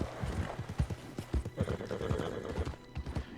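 A horse in the Red Dead Redemption 2 video game, rapid close hoofbeats clip-clopping throughout with a whinny mixed in, and no clear talk.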